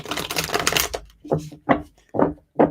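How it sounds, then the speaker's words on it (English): A burst of rapid riffling tarot cards, then four short separate shuffles or taps of the deck, close and crisp. "I just want to give this like a real quick shuffle here"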